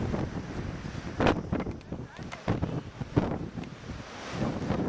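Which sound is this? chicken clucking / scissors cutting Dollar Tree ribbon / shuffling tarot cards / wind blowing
wind blowing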